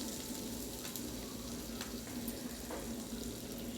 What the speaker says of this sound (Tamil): 2 வரமல்லியும் போட்டு அது கூடயே வதக்கலாம்.